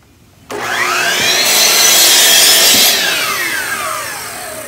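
A loud power saw bites into a plywood board cutting kerfs for bending, starting abruptly and holding a harsh, whining buzz as the blade works through the wood, then gradually easing off.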